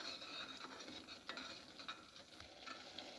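Kofta masala with cashews stirred and sautéed in a pan, a soft steady sizzle under light scraping strokes of the spoon, close and fairly quiet, with no talking.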